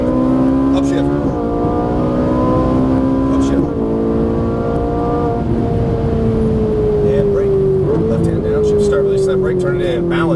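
A Ferrari 458 Italia engine revs hard on a race track, rising in pitch through the gears with brief drops at each upshift, loud and continuous from inside the car.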